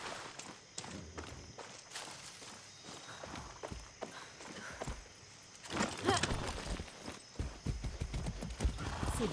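Horse hooves clip-clop through a Far Cry 6 game scene, a steady run of close, crisp hoof strikes that thickens and grows louder in the second half, with a brief whinny and faint voices mixed in.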